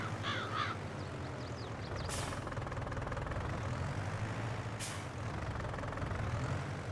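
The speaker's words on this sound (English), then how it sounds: "Loving the sound of this tractor, I really do." A Fendt tractor engine in Farming Simulator 22 runs with a steady low drone, broken by two sharp bursts of air release and bird-like squeals near the start.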